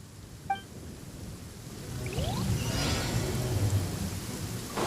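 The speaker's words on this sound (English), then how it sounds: "It's raining again." Rain and thunder fill a stormy scene in Genshin Impact: steady rainfall hisses throughout, with a rolling rumble of thunder building from about the midpoint and a couple of brief chimes and sweeping game effects layered over it.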